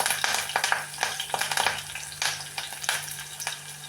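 Curry leaves sizzle and spatter in hot oil for a dried fish and prawn curry, a steady crackling fry with irregular pops throughout, close and fairly loud with no talking.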